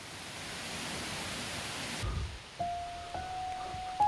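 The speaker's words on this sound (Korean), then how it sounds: "계곡 물소리가 점점 작게 들리네" A mountain valley stream at Yumyeongsan rushes as a steady broadband wash for about two seconds, then drops away abruptly, leaving quiet background with a faint steady tone.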